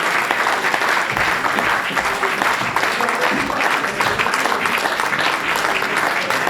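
An audience applauds young performers at a conservatory slam show in Panazol, a loud, dense and continuous wall of clapping filling the hall without pause.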